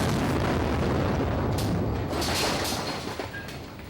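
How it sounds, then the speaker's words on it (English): Strong explosions as bombs fall on Baghdad on a Saturday morning, a loud rumbling roar with several booming bursts rolling through a continuous low wash, no voices. "the city has been rocked again by extremely strong explosions"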